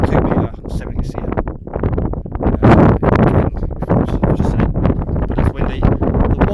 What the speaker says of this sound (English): The wind's picking up a bit here, but it stays on the car perfectly.